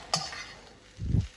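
Cooked ham being stir-fried for fried rice: a sharp clatter near the start, then a low sizzle, and a louder burst of frying and stirring toward the end.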